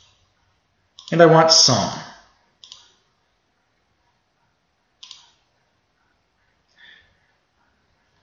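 Mouse clicks in Microsoft Access come as a few isolated, crisp taps after a short spoken phrase, faint and well separated in near silence.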